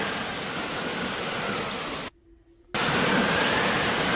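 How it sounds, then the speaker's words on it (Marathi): Steady, dense rush of heavy rain with gusting wind, loud and close, briefly cutting to near silence before resuming. "खूप वारा आणि खूप पाऊस आहे."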